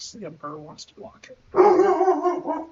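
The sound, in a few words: dog barking in the background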